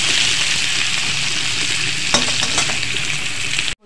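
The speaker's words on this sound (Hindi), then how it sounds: "मिक्स कर लेते हैं, लाल करेंगे भून के और निकालेंगे।" Potatoes frying with turmeric in mustard oil in a kadai, a loud, dense, close sizzle with a few stirring clinks near the end before it cuts off abruptly.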